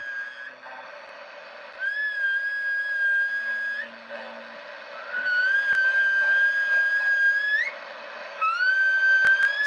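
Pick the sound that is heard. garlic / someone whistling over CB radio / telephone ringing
someone whistling over CB radio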